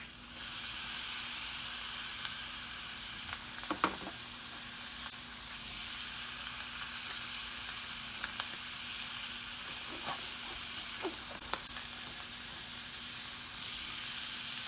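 Bacon strips sizzle steadily on a hot Big Green Egg grill, a constant bright hiss from start to finish with a few sharp crackles and pops scattered throughout, fairly close and with no voices.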